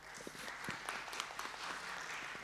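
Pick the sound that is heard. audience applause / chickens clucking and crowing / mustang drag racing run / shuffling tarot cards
audience applause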